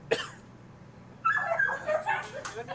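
A dog gives a short yip, then a string of whiny, whimpering vocalizations, close and moderately loud.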